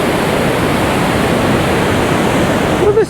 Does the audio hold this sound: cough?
no